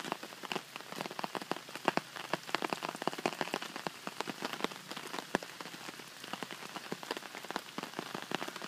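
Rain patters steadily onto a hammock's fabric outdoors, a dense spatter of close, crisp drops with irregular louder hits scattered throughout, with no voices.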